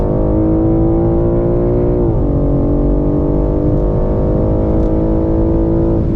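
A BMW M3 runs flat out on the Goodwood track, its engine loud and sustained, pitch dipping briefly at a shift before climbing and holding steady with no voices.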